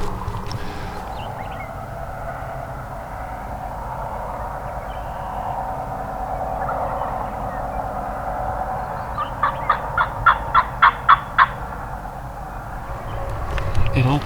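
A Merriam's wild turkey gobbles on public land in South Dakota, a rapid string of about eight sharp gobble pulses rising from a steady outdoor wind and rumble, moderately distant.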